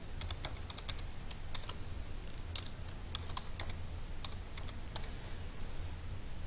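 Rapid bursts of crisp key clicks from a computer keyboard, irregular clusters of taps at close range with a steady low hum underneath and no talking.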